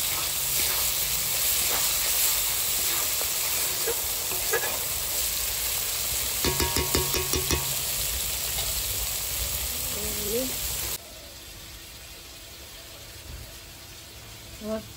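Pointed gourd pieces fry in hot oil in a pan, giving a loud continuous sizzle with clattering stirring in the middle, which drops to a quieter hiss near the end.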